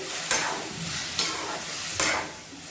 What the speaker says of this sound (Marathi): आता आपल्याला टाकायचे कच्चे बारीक चिरलेले टोमॅटो हे छान परतून घेऊयात